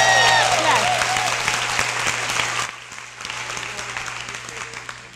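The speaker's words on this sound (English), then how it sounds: "this crowd is absolutely at their deepest level rooting for you and cheering for you right now" A large audience at a women's equity anniversary celebration applauds and cheers loudly in dense, sustained clapping with a few whoops, then settles to a softer, steady clapping as the applause goes on.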